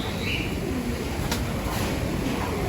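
Racing pigeons in a loft give soft, low coos close by against a constant steady background hum.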